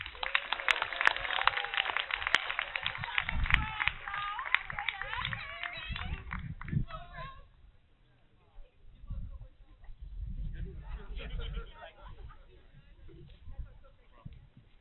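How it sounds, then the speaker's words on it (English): A banquet crowd at a university athletic awards event claps for an honored athlete, with bright scattered applause over the first several seconds that fades into quieter room murmur and talking. "round of applause for Alex"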